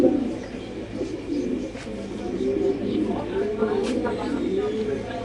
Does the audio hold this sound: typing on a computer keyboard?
no